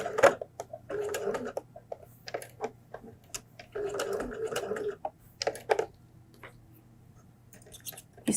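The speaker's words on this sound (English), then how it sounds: "I'm going to back stitch." A sewing machine back stitches fabric at the edge of a homemade flu mask, running in short close bursts of rapid needle clatter separated by pauses and small clicks.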